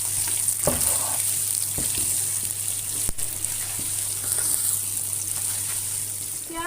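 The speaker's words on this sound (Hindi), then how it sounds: "अब मैं इसके अंदर एक मीडियम साइज़ की कटी हुई प्याज डाल दूँगी। प्याज को फ्राई करूँगी।" Chopped medium-size onion fries in a pan, giving a steady close sizzle with occasional stirring clatter and no talk.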